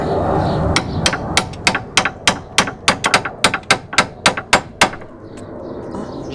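A hammer drives a chisel on a Peugeot 206 during clutch work: about fifteen sharp metallic strikes in a steady rhythm, loud and close, then a short quiet tail.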